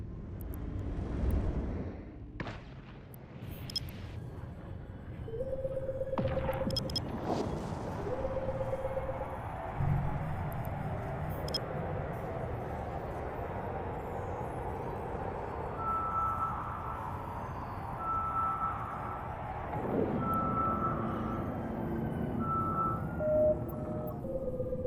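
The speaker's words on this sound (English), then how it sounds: "Warp drive active." A spaceship's warp drive engages in EVE Online with a deep rising rumble and whoosh, then a long sustained drone. Short tonal beeps and chimes repeat over it near the end; no one speaks.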